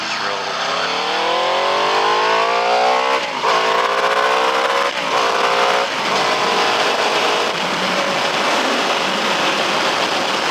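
A motorcycle engine revs hard while it is ridden, climbing in pitch through several gear changes with brief dips between them, loud and close, with a rider talking over it.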